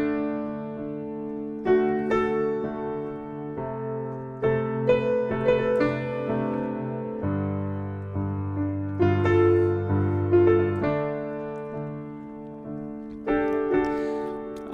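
Solo piano picks out the flute melody from a song over chords, a run of clear sustained notes with steady phrasing and no talking.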